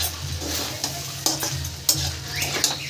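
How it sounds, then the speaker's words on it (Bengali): Close-up scraping and stirring of fried rice with coriander leaves in a pan, with a light sizzle and a few sharp utensil clicks against the metal. "ধনে পাতাটা দিয়েও ভালো করে মিশিয়ে দেবো"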